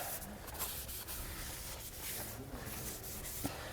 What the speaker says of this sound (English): we want to clean the surface of our rotor here using some brake parts cleaner